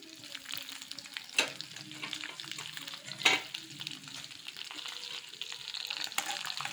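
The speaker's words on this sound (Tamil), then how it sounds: "இதையும் போட்டு நல்லா வதக்கிப்போம்." Cashews, ginger and green chili sauté in hot oil, a soft continuous sizzle with a couple of sharper stirring scrapes of the spoon against the pan, fairly quiet and close with no talking.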